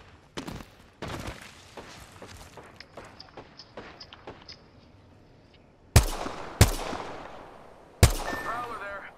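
Gunfire in the Apex Legends video game: several sharp, loud shots ring out in the latter half, following a run of lighter rapid footsteps and clatter, with game voices nearby.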